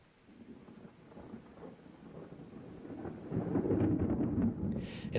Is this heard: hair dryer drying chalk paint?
no